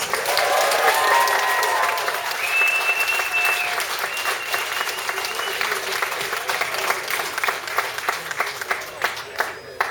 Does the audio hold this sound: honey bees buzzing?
no